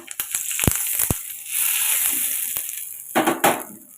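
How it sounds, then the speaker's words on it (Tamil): A loud sizzle of spices tempered in hot oil for a spicy chutney, with sharp crackles and pops over a steady frying hiss. "இப்போ நம்ம சட்னிக்கு ஒரு சின்னதாக ஒரு தாளிக்கு கொடுத்துருங்க"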